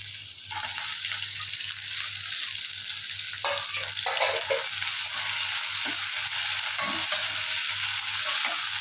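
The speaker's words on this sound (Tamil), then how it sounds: "நம்ம பொடியாக தக்காளி இந்த தக்காளி போடுவோம்" Chopped tomatoes sizzle steadily in a hot pan for a paneer gravy, a constant bright frying hiss broken by occasional scraping strokes of a spoon, with no voices.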